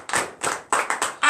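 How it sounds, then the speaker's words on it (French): A congregation claps for Jesus during a morning prayer service in Comè, Benin, in a few separate loud bursts of hand claps with short gaps between them. "Donnez l'acclamation à Jésus."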